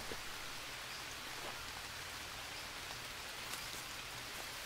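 Steady rain pours in the jungle survival video game Green Hell, a dense, even hiss of drops on surfaces with a few louder patters, heard alone at a moderate level throughout.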